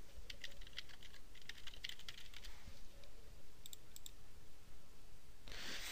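Keys clatter on a computer keyboard as an email address is typed into mail forwarding settings, a steady run of light clicks followed by a few scattered taps, alone and close.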